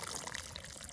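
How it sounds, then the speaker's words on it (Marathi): Water is poured over wild sarati greens to wash them, making a steady, continuous splashing rush for the whole second with no voices. "आपण आता डबल पाणी धुवून घेतली"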